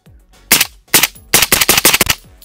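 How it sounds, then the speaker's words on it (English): PSA JAKL rifle fired with its stock folded, six or seven loud close shots in quick irregular bursts with short gaps between them. "And shoot it folded."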